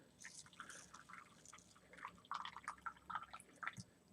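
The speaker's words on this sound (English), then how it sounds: "I'm going to just pour some water inside this cup." Water poured into a cup, faint at first, then a cluster of splashy drips and trickles building toward the end, close and quiet with no talk over it.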